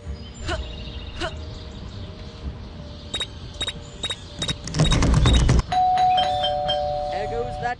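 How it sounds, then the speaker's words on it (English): Repeated bright doorbell chimes ring out in a Scary Teacher 3D gameplay scene, several short ding tones over game background sounds, followed by a louder burst of noise and a sustained tone. "There goes that stupid bell again."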